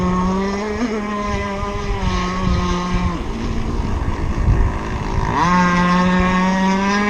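The small engine of a Zippkits SLR Thunderboat RC model boat runs continuously with a buzzing drone, its pitch dipping and rising again as the throttle eases off and opens up, steady and close without speech.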